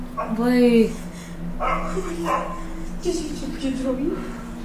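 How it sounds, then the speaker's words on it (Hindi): A dog barks a few times with whiny yips in between, fairly close, against a steady low hum. "बिल्ली कुत्ते की आवाज क्यों निकाल रही?"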